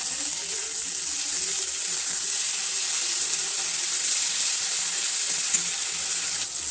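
Onion paste with ginger and green chili paste sizzles steadily in a hot pan, a continuous close-up frying hiss with occasional faint stirring.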